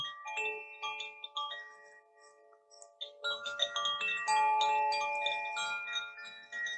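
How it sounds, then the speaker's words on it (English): Koshi chimes tuned to the water element ring out in bright, clear overlapping tones, first a few sparse strikes that fade, then a denser cascade of shimmering notes that sustain and blend. "These are called, I don't know how this will show up, Koshi chimes."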